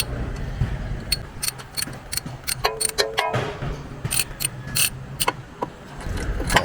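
Long 27mm socket on a wrench loosening a car's oil pressure switch, giving irregular ratcheting clicks and metallic ticks, close and fairly loud.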